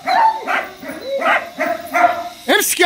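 A small dog being trained plays tug, giving a series of loud close yappy barks and growly whines in an uneven rhythm, with a voice talking alongside.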